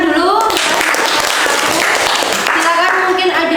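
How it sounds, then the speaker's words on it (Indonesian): A classroom group applauds a student group after its presentation, a dense, loud wash of clapping that runs throughout, with voices calling out over it. "beri tepuk tangan dulu"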